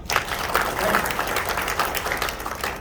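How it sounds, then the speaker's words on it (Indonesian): An audience at a work-motivation training seminar breaks into applause, a dense continuous patter of many hands clapping at moderate loudness, with voices faintly mixed in. "Tepuk tangan."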